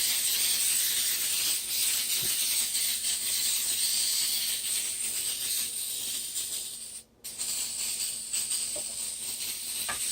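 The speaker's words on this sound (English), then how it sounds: "Always want to do a nice layer of the dollar store coconut cooking spray" A long, continuous hiss of coconut oil cooking spray sprays close by, breaking off briefly near the end before starting again.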